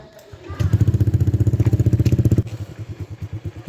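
A motorcycle fitted with a CLD C2 aftermarket exhaust starts up close by, breaking into a loud, deep, bassy pulsing burble that then drops to a quieter, uneven idle thump.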